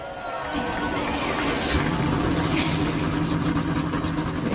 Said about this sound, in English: The engines have been fired up here.